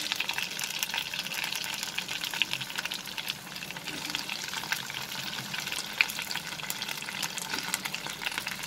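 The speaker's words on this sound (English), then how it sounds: "After taking out the onion from this oil, I will fry the okras." Okra sizzles in hot oil in a pan over medium flame with a steady, dense crackle and fine popping, one brief sharper pop standing out, and no voices over it.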